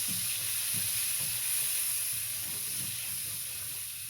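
Minced garlic sizzles in a hot pan for chicken and rice, a constant close hiss and crackle with faint low stirring thuds underneath and no voices.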